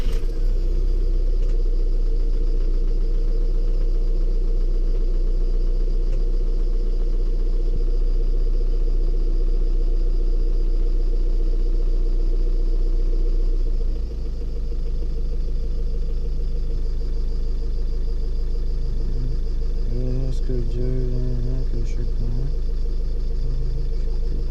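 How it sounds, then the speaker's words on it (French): A VW Polo 5 with a DSG7 DQ200 gearbox runs at a steady idle, a continuous low engine drone throughout. About halfway through, the pitch and tone shift slightly. Faint clicks and a brief warbling tone appear near the end. "Démarrer le moteur."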